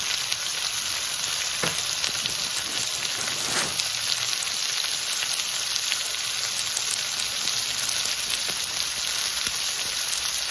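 Capsicum bhurji cooks in a covered pan, giving a steady, close hiss of frying with a few faint stirring clicks and no pauses.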